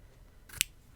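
One quick snip of scissors through paper or a sticker sheet at a planning desk, a single short crisp cut against quiet room tone.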